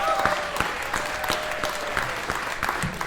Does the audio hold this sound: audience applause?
yes